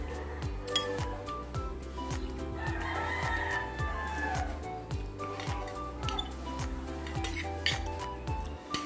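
Neighbours' roosters crowing in the background, their calls drawn out and moderately distant, under a steady low rhythmic thumping and occasional clinks of dishes.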